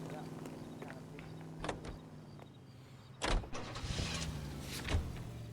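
Car door thuds and an engine starting in the LA Noire video game, with a low idling hum running throughout, a sharp door slam around the middle and another clunk near the end, under background game dialogue.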